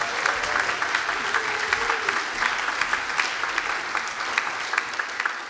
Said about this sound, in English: So a massive round of applause to Charlie, please.